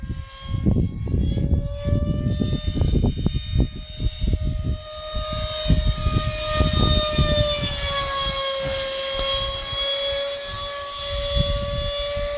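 HobbyKing BAE Hawk EDF model jet with a 70 mm ducted fan sweeping past overhead, a loud whining tone that holds and then drops in pitch as it passes, with wind buffeting and thumps early on.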